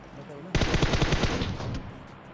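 Rapid automatic gunfire in the PUBG Mobile video game, a close, loud burst of closely spaced shots lasting under a second and a half, then fading off.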